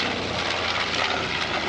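Heavy aircraft engine at an airshow, a loud steady drone that fills the whole moment with no voices over it.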